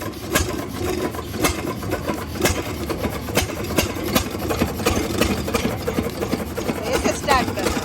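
An old Field Marshall engine runs with a steady, rhythmic thumping chug, close by, while voices talk over it.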